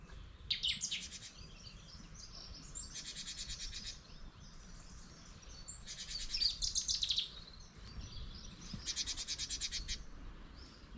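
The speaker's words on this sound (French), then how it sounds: "Les petits oiseaux qui chantent." Small birds sing outdoors in bright, rapid trilling phrases, four distinct bursts spaced a couple of seconds apart over a low, quiet ambient background, fairly close and clear with no talking.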